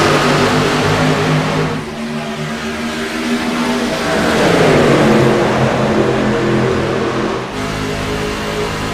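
NASCAR truck series race trucks racing at Kansas, a loud roaring pack of engines sweeping past with rising and falling pitch, one surge swelling and fading around the middle.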